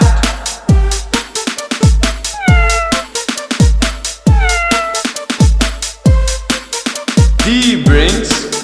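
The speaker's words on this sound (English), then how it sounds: "C brings a cat." A cat meows repeatedly, loud and close, its drawn-out calls riding over a steady thumping rhythmic beat in a kindergarten nursery song.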